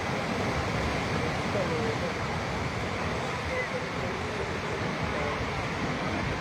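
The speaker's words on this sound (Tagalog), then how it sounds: "Maganda na rin yung alon yan." Sea waves at Binmaley beach in Pangasinan, a steady wash of surf mixed with wind rumble on the microphone, fairly faint and continuous.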